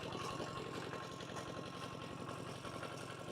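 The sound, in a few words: farm tractor engine running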